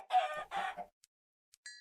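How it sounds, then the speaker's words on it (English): Chickens in the Minecraft modpack Omnifactory give two quick close clucks, followed by a couple of tiny clicks and a short bright game tone, with no talk. "Chickens are annoying."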